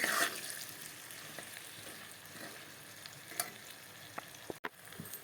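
Onions and chicken masala cooking in a pan, a faint, steady sizzle with occasional soft stirring scrapes and a few sharper taps toward the end, quiet and without talk.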